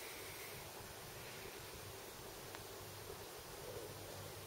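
Soft, steady wind rushes outdoors in a garden on a sunny early-autumn afternoon, a faint continuous broadband hiss with gentle gusts, no voices.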